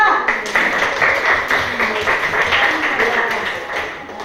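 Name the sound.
class applauding group 4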